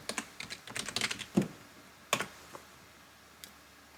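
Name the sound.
typing a username on a computer keyboard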